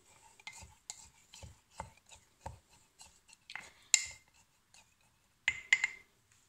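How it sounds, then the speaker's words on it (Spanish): A spoon stirs overnight oats with orange in a bowl, making a steady rhythmic scraping up close, followed by a few brighter clinks against the bowl. "Vamos a mezclar. Muy bien."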